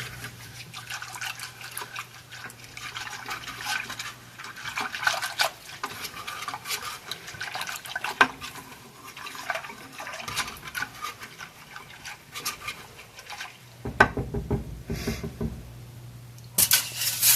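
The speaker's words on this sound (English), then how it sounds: "we're just going to let that kind of simmer on its own" Sweet and sour sauce simmers in a pot, giving soft, irregular liquid bubbling and stirring sounds, faint and close, with a brief louder clatter near the end.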